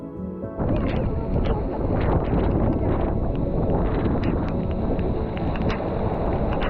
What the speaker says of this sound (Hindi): एक जगह पर इतनी जोरों की हवा चलने लगी और बारिश होने लगी